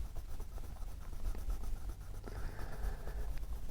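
Neocolor wax pastel dragged across paper, a continuous close scratchy rubbing with short stroke accents, some strokes moving from white paper into a black area.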